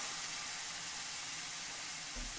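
A homemade McRib patty sizzles in a pan with added water, giving a steady, close, bright hiss and crackle that runs unbroken throughout with no talking.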